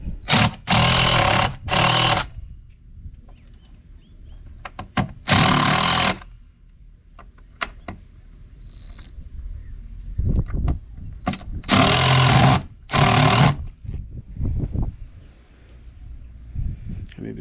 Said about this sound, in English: I need to change this drill bit.